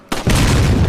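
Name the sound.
explosion in the video game Resident Evil 4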